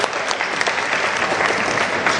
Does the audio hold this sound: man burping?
no